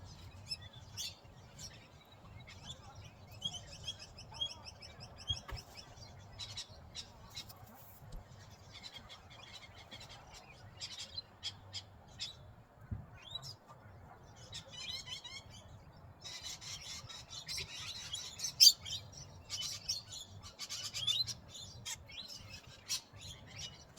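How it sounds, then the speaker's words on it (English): Evening birds sing outdoors, quiet scattered chirps and short trilling phrases against a faint low background hum, with no talking. "listening to the evening birds"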